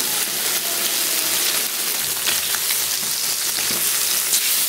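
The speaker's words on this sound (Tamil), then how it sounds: "ஸோ இது ஸ்லோவாக குக் ஆகட்டும்." Red snapper fish frying slowly in oil in a pan, a steady, dense sizzle that stays loud and even throughout with no voices.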